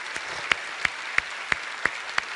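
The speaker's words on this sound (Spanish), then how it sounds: "Quiero darle un aplauso a todas estas personas que visitan la iglesia" Church congregation clapping in a slow, steady beat, about six sharp claps at even intervals over a faint background hum, with no voices.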